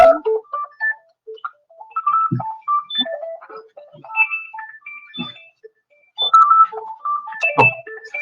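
A phone ringtone plays during a lecture, a loud, bright melodic pattern of repeating tones that pauses and then starts again, with no talking over it.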